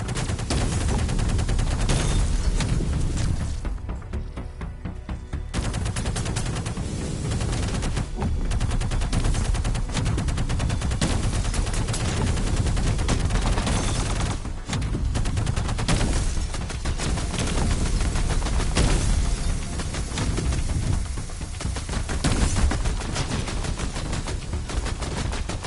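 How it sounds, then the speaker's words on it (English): Relentless rapid gunfire from the VR Invaders shooter game on PSVR, a dense, loud, continuous stream of shots with brief dips, going on for nearly half a minute without speech. "Rapid fire."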